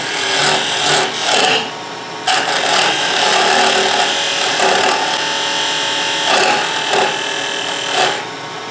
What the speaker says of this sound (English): I'm just going to use a bead turning tool.